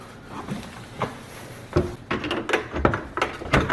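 Wooden under-sink cabinet doors being installed: a string of sharp knocks, clacks and thumps, irregular and close, after a quieter stretch of handling noise.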